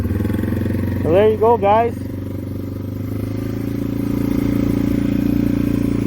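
A Yamaha TW200 motorcycle engine idles close by in a steady low thump, with someone speaking briefly over it early on.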